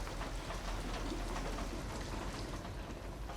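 Steady rain pours down throughout in a Detroit: Become Human scene near a car, a dense, even hiss of drops hitting surfaces, close and continuous with no talk.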